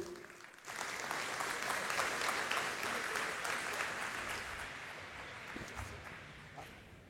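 Conference audience applauding a speaker at a software quality event, clapping swells after a short pause and holds as a dense, even roar before slowly thinning out.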